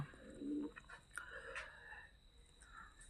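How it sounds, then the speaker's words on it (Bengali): Domestic pigeons kept under a tarpaulin cover coo softly nearby, with a few low rolling coos and faint chirps over a quiet background. "এই কাছে আমার কবুতর আছে"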